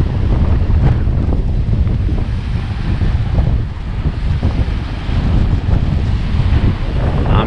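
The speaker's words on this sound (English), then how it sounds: "y'all can hear that wind." Strong wind blowing at Belton Lake, loud continuous buffeting roar across the microphone with wave wash beneath, steady throughout with no voices.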